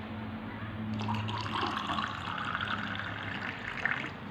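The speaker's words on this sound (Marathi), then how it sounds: "पाणी टाकून" Quiet pouring of water into a glass holding amla crush, a soft liquid trickle rising in pitch over a few seconds.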